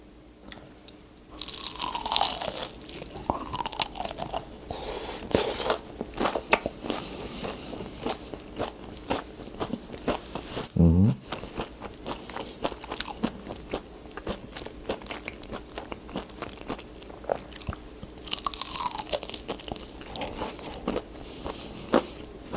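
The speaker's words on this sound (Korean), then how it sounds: "프라이드부터 먹어보도록 하겠습니다" Crisp crunchy bites and chewing of fried chicken close to the mic, in scattered bursts with quiet pauses between.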